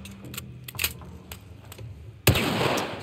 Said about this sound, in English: Oh, I'm wasting all of these shots.